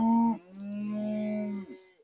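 Cattle on a farm lot lowing nearby, a single drawn-out moo with a rising then falling tone, loud and clear with no talk.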